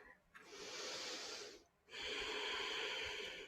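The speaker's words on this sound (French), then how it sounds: "Inspire" A long, steady inhale through the nose in a yoga class, close and breathy, swelling for about a second, pausing briefly, then a second sustained breath drawn in; no talking.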